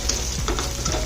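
Chopped green chillies and onion frying in a pan for restaurant-style noodles, a steady close sizzle with a few soft stirring scrapes, with no talking.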